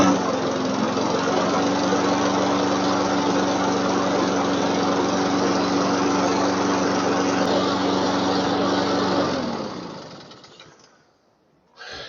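A Honda self-propelled lawn mower engine, with its choke mechanism freshly cleaned so it closes fully, runs steady and loud close by on a cool day. It is then shut off and winds down into near silence.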